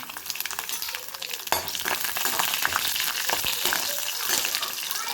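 Mustard seeds, curry leaves and crushed garlic fry in hot oil for a tomato thokku, giving a steady busy sizzle with crackling pops and occasional stirring scrapes, close and continuous.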